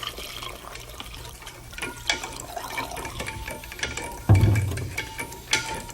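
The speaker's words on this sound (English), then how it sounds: "We pour that in, and we give it a stir." Drink mix being stirred into liquid in a cooler for a homemade tropical punch, giving a watery swishing with scraping clicks, a louder slosh near the end, close and alone.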